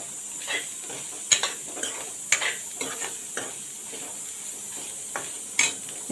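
Masala ingredients for a spicy Konkan-style black pea sambar dry-roast together in a pan. Soft, intermittent scraping and tapping stirs sound over a faint low hiss, with no talking.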